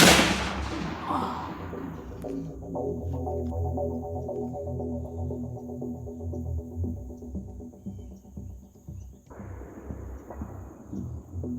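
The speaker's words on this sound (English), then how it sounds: "just light pressure the whole time until the gun goes off" A single loud gunshot at a shooting range cracks right at the start and rolls off into a long booming decay. Low, uneven rumbling and throbbing noise follows for several seconds, and no one speaks.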